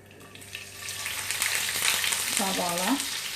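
Mustard seeds fry in two spoons of hot coconut oil in a pan for a yam curry, giving a steady close sizzle with faint crackling and a scraping stir near the end.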